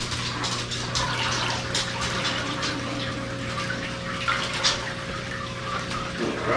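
Water pouring steadily into a saltwater aquarium as grass shrimp are dumped in, a continuous close splashing rush with a faint electrical hum underneath and no talking.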